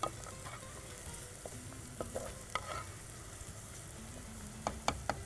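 Onions sautéing in a pan, nearly three-quarters softened, give a low, quiet sizzle throughout, with scattered light taps and scrapes of a stirring utensil near the end.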